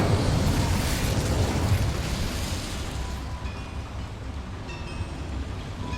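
A fire spell is cast in Hogwarts Legacy inside a small mine, releasing a loud, roaring burst of flame that rushes and crackles steadily before easing into a softer hiss with faint high ringing tones.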